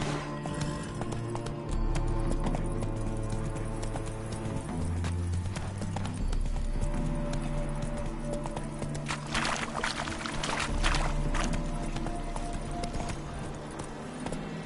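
The video game horse Roach clip-clops along in a continuous, fast run of hoofbeats, loud and close, layered over steady sustained tones.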